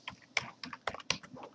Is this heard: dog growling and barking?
no